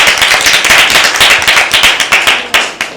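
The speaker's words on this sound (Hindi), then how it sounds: "आप अपने लिए ज़ोरदार तालियां बजा लें" Loud, close clapping from an audience at a children's Lent special quiz show, a rapid rhythmic burst of individual claps sustained throughout.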